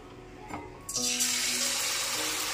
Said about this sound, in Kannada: ಈಗ ಇಲ್ಲಿ ಎಣ್ಣೆ ಕಾರಿದೆ, ಹಾಗಾಗಿ ನಾನು ಒಂದೊಂದೇ ಪನ್ನೀರ್ ತೊಗೊಂಡು ಇದಕ್ಕೆ ಹಾಕಿ ಕರ್ಕೋತೀನಿ